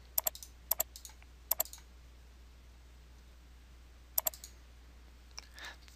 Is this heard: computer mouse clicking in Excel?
yes